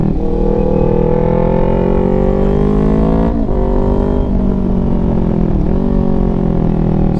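A tuned motorcycle with aftermarket stacks and a tune roars continuously at close range, its engine pitch climbing steadily then dipping sharply twice as it downshifts into third gear, revs blipping back up after each shift.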